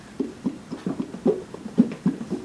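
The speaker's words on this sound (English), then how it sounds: "It's more glugging." Thick, irregular glugging thumps from a shaken jar of thickening ice cream mixture, a series of muffled sloshing knocks about every quarter second, fairly close and without talk.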